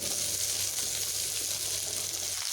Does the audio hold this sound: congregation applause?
no